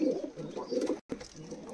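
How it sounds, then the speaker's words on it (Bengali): Giribaz pigeons cooing close by, a few soft low throaty coos with a brief silent gap midway. "এই হচ্ছে কবুতর সেটটা"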